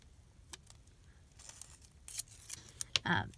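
Scissors cut paper to shape an envelope, a cluster of crisp snips building toward the end, close and fairly quiet, with faint background voice.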